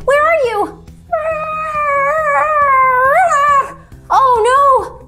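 A voice imitates a dog howling: three long, wavering howls, each rising and falling in pitch, loud and close, with short gaps between them.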